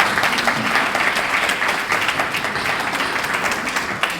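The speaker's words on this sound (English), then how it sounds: "let's give her Her Excellency, another round of applause" An audience at a community anniversary celebration claps in steady, sustained applause, loud and close, dense, with no voices over it.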